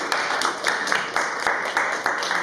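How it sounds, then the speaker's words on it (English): An audience at a Speak Your Truth event claps in repeated bursts of several hand claps each, moderately loud, with faint voices mixed in. "Clap it up for her."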